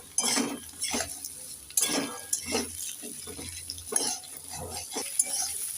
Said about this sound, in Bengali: এবার দিয়ে দেব কেটে রাখা আলু গাজর আর মূলো একটু নেড়ে ছেড়ে দিয়ে দেবো